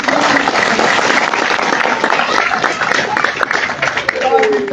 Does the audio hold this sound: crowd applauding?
yes